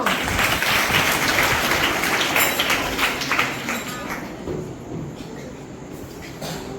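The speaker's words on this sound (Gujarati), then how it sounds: "સહી જવાબ. તાળીઓ." Children clap together for a correct answer, a dense, steady patter of claps that fades gradually toward the end.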